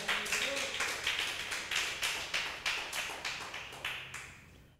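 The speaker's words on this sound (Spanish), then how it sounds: "Denle un aplauso al Señor" A church congregation claps in rhythmic unison, a steady train of close, even hand claps that fades away toward the end.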